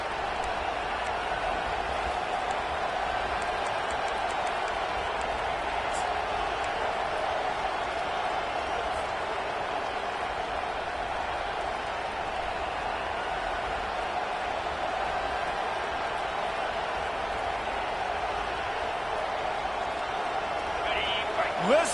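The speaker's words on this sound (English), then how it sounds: "Listen to this crowd just shaking the girders of this place, trying to help their defense." A large stadium crowd at a Clemson football game roars steadily and loudly throughout, a dense sustained cheer with a voice talking over it.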